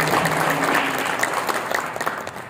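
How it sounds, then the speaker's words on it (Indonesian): A crowd applauds the arrival of the JICA President at a Papua provincial government ceremony, dense and fairly loud clapping filling the space steadily from start to finish with no talk over it. "Mari Bapak Ibu tepuk tangan untuk kehadiran beliau yang saya hormati."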